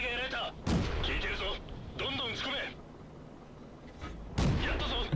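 Tank cannon fire in the video game World of Tanks from a Renault Otsu: a few heavy booming blasts spaced seconds apart, with someone talking between and over them.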